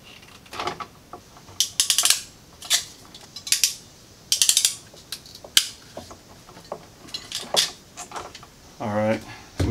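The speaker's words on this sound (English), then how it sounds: "Just going to strip the end of these." Wire strippers bite and pull at the ends of electrical wires in a switch connection job, a series of short close scraping clicks and snips, with a voice talking briefly near the end.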